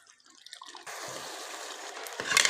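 Water is poured steadily into a pot of cooked chickpeas, a continuous close splashing pour that grows slightly louder toward the end, with no talking.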